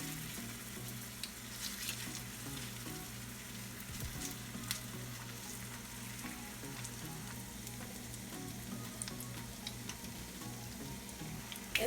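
Spoonfuls of veggie fritter mix frying in hot oil, a soft, even crackling sizzle with scattered pops throughout, fairly quiet and without talk.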